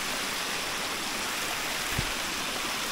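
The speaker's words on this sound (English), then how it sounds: "Another waterfall." Steady broadband rush of a waterfall in an outdoor trail setting, a constant dense roar with no pauses and one brief low thump midway.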